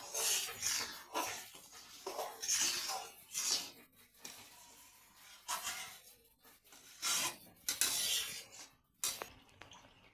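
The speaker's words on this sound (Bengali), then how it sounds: "দিয়ে ভালো করে নাড়তে হবে।" Spices with chilli and turmeric powder being stirred in a pan for mango kasundi, faint scraping and rubbing strokes in uneven bursts with occasional light metallic clinks.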